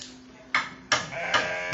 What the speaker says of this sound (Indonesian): Di sini domba-dombanya